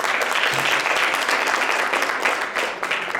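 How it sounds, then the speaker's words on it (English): A summit audience gives a round of applause for Tom, steady full-room clapping with no voices over it. "round of applause to Tom for making sure that happened"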